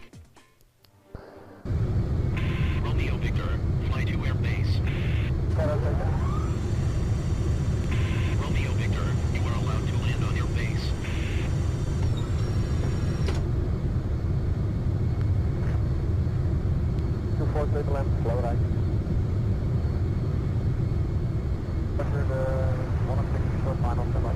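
An F18 jet in a carrier-landing video game gives a constant loud engine roar throughout, with a person talking over it.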